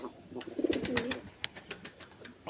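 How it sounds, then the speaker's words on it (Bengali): A pigeon coos nearby in a loft setting, a short low warbling call followed by soft rustles and light taps, fairly quiet and close. "নতুন পায়রা ডাকছে"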